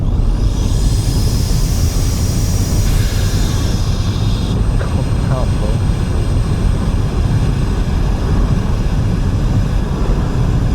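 Audi A4 B9 sedan fitted with a cold air intake, accelerating hard on the road, a loud continuous engine and road roar that rises in pitch and then steadies, with the car heard from inside.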